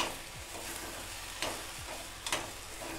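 Jaggery melting in a pan for lapshi sweet being stirred over medium heat, a low steady sizzle with a few spoon scrapes spaced out, close and faint, with no voices.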